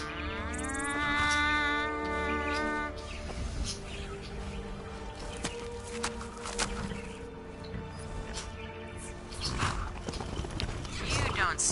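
A horse in the video game Skyrim, with a clear whinny early on followed by clip-clopping hoof steps and scuffles, while a person talks over it throughout.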